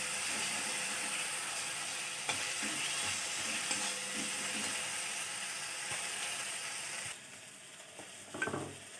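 Ginger paste and spices sizzle loudly in hot oil in a pan for a vegetarian potato and cauliflower curry, a dense continuous hiss up close, with occasional scraping from stirring; the sizzle drops slightly near the end before a brief clatter.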